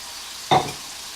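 A single short burst of frying as ingredients and cut-up garlic hit a hot pan, a brief loud sizzle that quickly fades to a quiet background hiss.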